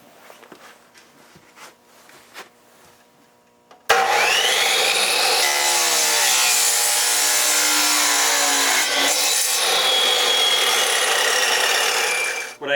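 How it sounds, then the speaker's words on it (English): A saw set at a 45-degree angle cuts through a pipe for a vertical hydroponic tower, a loud continuous grinding whine that starts abruptly after quiet handling noises and runs steadily for about nine seconds. "there you can see I have my saw set at a 45-degree angle"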